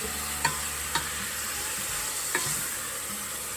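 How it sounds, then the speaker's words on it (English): Ground beef sizzles steadily in a pan for chili while it is broken up, with a few soft utensil scrapes and taps over the constant frying hiss, close and alone. "it's pretty much you're just breaking up the ground beef into smaller pieces"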